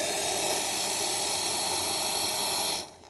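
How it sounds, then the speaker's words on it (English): A steady, hissing stream of hot water pours from an espresso machine for about three seconds, then cuts off abruptly. "Now, I'm using water from the espresso machine"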